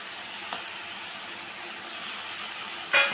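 Snake gourd and fried shrimp frying in a pan give off a soft, steady hiss, with a brief louder sizzle right at the end and no talk.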